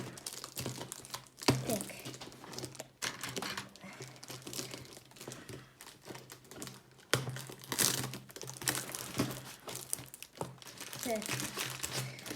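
Plastic packaging from a LEGO Super Mario set 71391, Bowser's Airship, crinkles and rustles continuously as the box is unpacked at close range, with a few sharp crackles; a voice speaks briefly over the handling noise.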